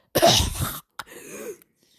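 A harsh, strained cough up close, followed by a rougher raspy expulsion and a brief sharp catch at the end.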